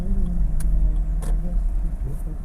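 A car being parked in a parking lot, its engine rumbling low and steady at close range while it rolls slowly, with a couple of brief clicks.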